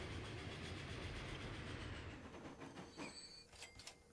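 Trains running on a rail line in the video game Transport Fever 2, a continuous rumbling roll that fades, followed by faint squealing and clicking wheel sounds, quiet overall with no talking.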